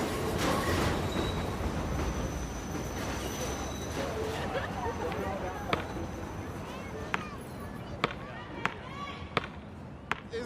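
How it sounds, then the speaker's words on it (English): A subway train passes close by on a city street, a loud continuous rumbling and rattling roar with sharp metallic clacks and ticks toward the end, while people talk beneath it. "The subway right there"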